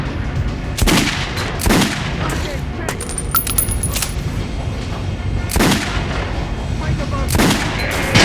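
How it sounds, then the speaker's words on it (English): Gunshots fired at an armor dummy on a shooting range in the video game Metro Last Light, several loud, separate reports with ringing metallic impacts between them, spaced irregularly over steady background noise. "Shoot the armor dummy, Artyom."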